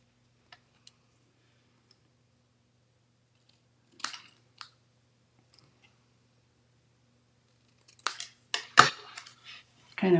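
Snips cut paper for a folded flower greeting card: a couple of isolated crisp snips, then a quick cluster of close, sharp cuts near the end in an otherwise quiet room.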